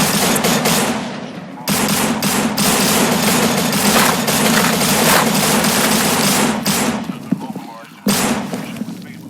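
Sustained, loud automatic gunfire in the zombie shooter No More Room in Hell, a dense continuous rattle broken by brief pauses, with a voice talking over it.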